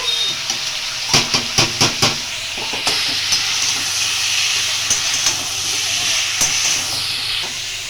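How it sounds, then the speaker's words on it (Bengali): Small shrimp boiling in a pot, a continuous steamy hiss and bubbling with a burst of sharp clicks and taps early on, no talking. "চিংড়ে মাছ সেদ্ধ হচ্ছে"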